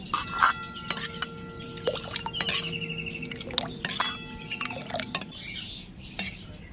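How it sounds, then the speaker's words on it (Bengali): Milk and chana dal batter for matka ice cream is stirred to cool, a spatula repeatedly clinking and scraping against a metal pan in quick irregular strokes, close and clear, with bright metallic ringing. "দেখুন এইভাবে চাটু দিয়ে নেড়ে চেড়ে ঠান্ডা করে নেবো।"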